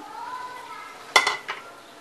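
Spring onion being mixed into cooking food in a pan, heard as a short cluster of metal utensil clinks and scrapes against the pan, fairly close, with a faint sizzle underneath and no talking.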